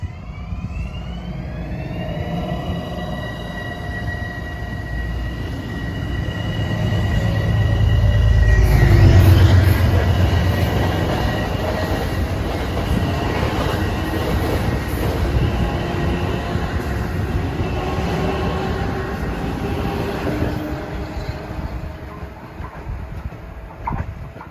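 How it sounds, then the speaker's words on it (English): A Metro-North train, number 753, pulls out of the station toward Ossining, a loud rumbling run with wheel squeal and steady rail noise that swells near the middle and then holds as it rolls away. "You'll see 753 take off for his next stop at Ossining"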